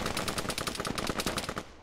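Pistol fire in a competitive shooter video game, a rapid run of sharp shots that keeps up for under two seconds and then stops. The shots are moderately loud, with no voices over them.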